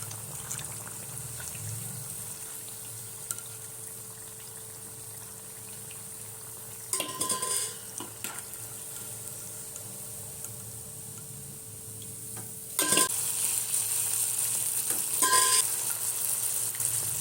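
Batter-dipped purnalu laddus frying in hot oil, a steady soft sizzle throughout, with louder bubbling bursts as more pieces drop into the pan.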